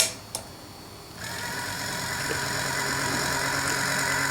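A small Magnorail motor inside its housing switches on after a brief quiet moment with a faint click, then settles into a steady, fairly soft electric hum that continues to the end.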